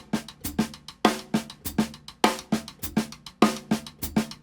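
Drum kit playing a right-left pattern with accented snare hits and soft ghost notes between them, plus crisp hi-hat, in a tight repeating groove, close and unaccompanied by talk.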